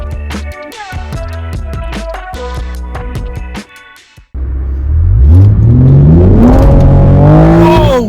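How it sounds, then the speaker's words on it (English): Toyota GR Supra (2020) launching hard from a standstill, its engine surging upward through revs with exhaust pops and crackles, loud and close after a brief lull; earlier, a rhythmic plucked-sounding tonal pattern precedes the takeoff. "That takeoff is amazing! The Supra is amazing! Oh my goodness! The popping!"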